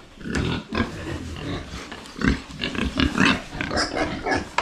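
Farm pigs grunting and snorting at close range, a dense and continuous jumble of rough, irregular oinks with no talk over it.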